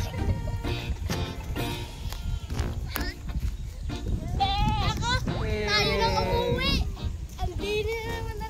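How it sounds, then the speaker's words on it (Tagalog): Goats bleat several times in wavering cries, close by, while people talk and call out around them. "Pinapakilaman kasi Marta yung kambing"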